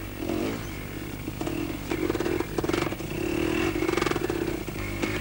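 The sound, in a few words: two-wheel-drive motorcycle riding through mud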